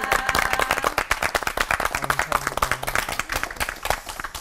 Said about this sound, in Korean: 세 분 목사님께 감사의 박수 보내드립니다